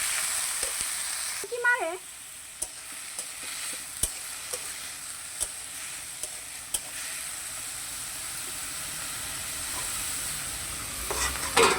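Lentil dumplings (bori) fry in a wok with a soft, steady sizzle, punctuated by sharp clicks of stirring and a short voice near the start, all fairly quiet and close.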